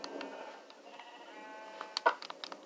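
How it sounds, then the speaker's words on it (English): Sheep in a video game give a few bleats, a nasal wavering baa early on and a sharper, louder bleat near the end, among light clicks and game noise. "Die, sheep, die!"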